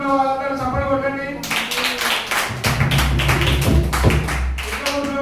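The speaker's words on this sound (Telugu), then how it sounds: "సంతోషంగా ఉన్న వాళ్ళందరూ చప్పట్లు కొట్టండి" A congregation at a prayer meeting claps together in a loud, dense burst of hands, starting about a second and a half in and carrying on steadily before tapering off, with a voice heard around it.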